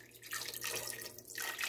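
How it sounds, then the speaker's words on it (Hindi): A glass of water is poured into a pot of chicken with turmeric and ginger-garlic paste, a continuous close splashing and gurgling pour lasting under two seconds. "1 ग्लास पानी,"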